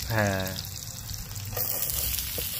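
Chopped onions and green chillies sizzle and crackle in hot oil in a pan, a continuous frying hiss joined by a brief tonal squeal near the start, with some stirring noise.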